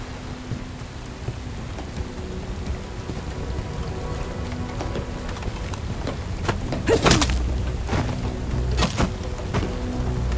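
Steady rain falls in the video game Bright Memory Infinite, a continuous hiss throughout with a few sharper cracks and rumbles standing out near the end.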